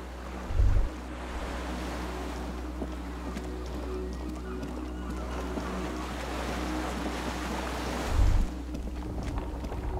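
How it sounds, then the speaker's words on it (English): A skiff by a dock rocking on lapping waves in the game Disco Elysium, a continuous washing surge with a low rumbling undertone and two brief deep thumps, steady and enveloping without speech. "The skiff is swaying on the waves by the dock."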